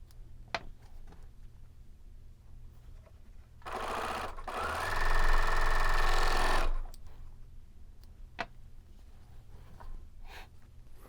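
A Bernina L850 serger pieces quilt blocks in a loud, continuous run of about three seconds, set between quieter handling noises and light clicks with no talking.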